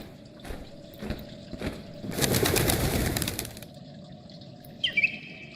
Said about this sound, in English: The bird was unafraid when you entered, but as you approach, it becomes disturbed.